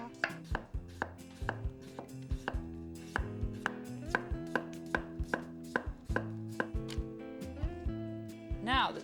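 Raw unpeeled potatoes are sliced thin with a knife on a cutting board, giving a quick, regular series of sharp close chops, while someone talks and hums lightly over them.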